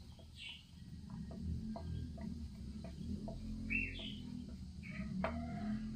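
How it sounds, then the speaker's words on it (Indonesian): Birds chirp outdoors in cool air among colorful red and yellow flowers, with scattered short calls at moderate distance rising above a steady low background hum. "Dan burung-burung berkicau."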